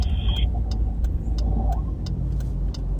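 A car's engine and road noise heard from inside a patrol vehicle, a loud continuous low rumble with a brief high tone at the start and faint repeated clicks over the engine drone.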